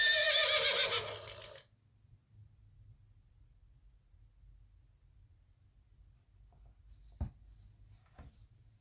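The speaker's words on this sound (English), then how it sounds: "Find the animal who is gray and says neigh. Now press the button to hear the sound." Gray horse neigh from a button on the Elmo's Noisy Farm Sesame Street sound book, a loud whinny lasting over a second, followed by near silence with faint button clicks.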